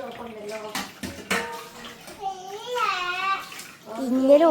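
Water runs from a tap as a three-year-old child washes at home, a steady soft splash heard under close talk and chatter from the child and an adult.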